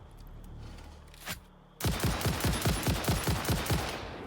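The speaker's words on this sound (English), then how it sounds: "Somebody's shooting shit at me." Rapid automatic gunfire in the factory-building game Satisfactory, a sudden loud burst of evenly spaced shots arriving after a quieter stretch of ambient hum with one earlier single bang, the shots fired at the player.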